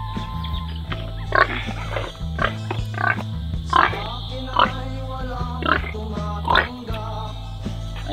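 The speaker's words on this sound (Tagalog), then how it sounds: "Laugan akong baboy idol eh." A pig on a rural farm grunts and oinks repeatedly in short bursts about once a second, close and clear over a steady low engine-like hum.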